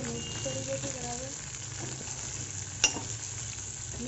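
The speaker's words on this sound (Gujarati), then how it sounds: "ભીંડા લઈ લઈશું વઘારમાં અને ધીરે ધીરે મિક્સ કરી દઈશું બરાબર." Sliced okra stirred into hot oil tempering with green chilies sizzles steadily in a pan for Gujarati bhindi, with soft scraping strokes and one sharp clink partway through.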